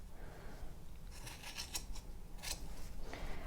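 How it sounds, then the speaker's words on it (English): Scissors snip a round yarn pom pom to shape it for a craft chick, a handful of quiet, close crisp cuts in irregular bursts over a soft background hiss, no talking. "all I'm going to do is I'm going to give them a final trim just to shape it"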